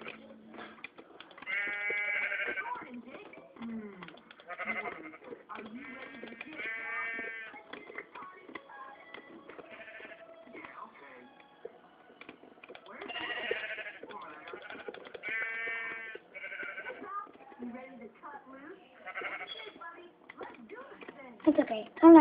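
Repeated bleats from sheep in the Minecraft video game, several tremulous calls in a row over scattered game clicks, with a person speaking at the same time.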